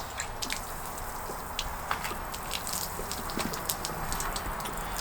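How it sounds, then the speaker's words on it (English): Antifreeze drains from the low point drains of a 2023 Minnie RV, a faint continuous trickle with scattered drips and splashes, steady throughout with no talking. "you drain out the antifreeze."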